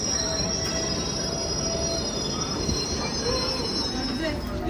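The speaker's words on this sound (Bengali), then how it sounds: "ট্রেন চলে আসছে একদম খালি আন্ডারগ্রাউন্ড খুব মানুষ নেই" Underground metro train arriving at a nearly empty station, steel wheels squealing in a steady high whine over a continuous rumbling roar, loud and close throughout.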